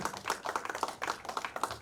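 Hands clapping in a church congregation, a quick, fairly close run of sharp, distinct claps in a steady rhythm without talk.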